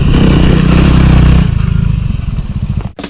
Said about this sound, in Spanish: la moto no suena nada mal